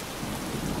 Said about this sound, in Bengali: রাত হলো, বৃষ্টি এখনো ঝরছে, ঝড় এখনো গর্জন করছে।